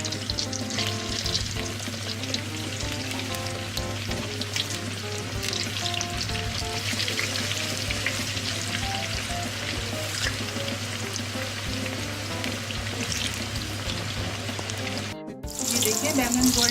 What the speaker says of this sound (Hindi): इसमें बैंगन फ्राई करने हैं।